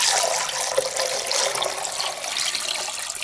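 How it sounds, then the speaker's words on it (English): Water pours steadily into a rock tumbler barrel holding 60/90 mesh grit for a Thumler's Model B, a continuous broadband rush that stays loud and even throughout with no voices. "Then fill it up with full of water."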